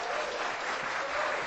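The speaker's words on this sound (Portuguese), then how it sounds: "até queria pedir uma salva de palmas para a Bia" An audience at a conservative symposium breaks into applause, a brief, dense burst of clapping from many hands heard at moderate distance.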